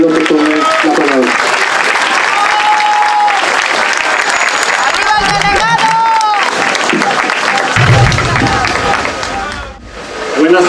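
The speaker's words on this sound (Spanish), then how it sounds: "Pablo Moctezuma, para quien pido un fuerte aplauso y le pido que tome la palabra." Crowd applause at an outdoor political rally in San Pedro Xalpa, Azcapotzalco, Mexico City, loud sustained clapping with whistles and shouts mixed in, fading near the end.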